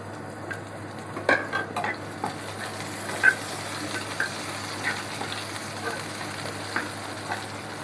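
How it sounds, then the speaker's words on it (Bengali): A tadka of chopped onion, garlic and dried chili fries in hot oil for a Punjabi curry pakora, giving a soft, steady sizzle with scattered clinks and scrapes of a spoon against the pan, close but fairly quiet. "পেঁয়াজ কুচি, রসুন, শুকনা মরিচ দিয়ে আমরা এটার সাথে তাড়কা দিয়ে দিব।"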